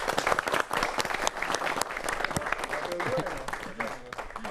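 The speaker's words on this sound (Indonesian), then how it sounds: "kita kasih tepuk tangan." Studio audience applause on an Indonesian political talk show, welcoming political science students from Universitas Esa Unggul: brisk, crowded clapping, fairly close and loud, with a voice emerging over the thinning applause near the end.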